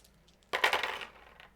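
Dice are rolled onto a table, a sudden bright clatter of hard pieces tumbling and rattling that settles into a fading skitter within about a second.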